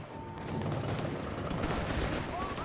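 Breda machine guns fire in Company of Heroes 3, a dense, continuous rattle of bursts with battlefield rumble, steady and loud across the whole stretch.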